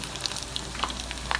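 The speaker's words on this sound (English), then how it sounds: "I have my whole eggs I peeled and I'm frying it in some oil." Peeled whole boiled eggs frying in hot oil in a pot give a steady soft sizzle with scattered small crackles and pops, close and fairly quiet, with no talking.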